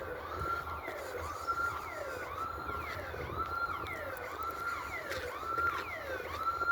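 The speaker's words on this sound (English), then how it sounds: "I hate the siren." A repeating wailing siren or alarm sounds in an empty building, each rising-and-falling sweep following the last in a steady, loud cycle over a continuous hum.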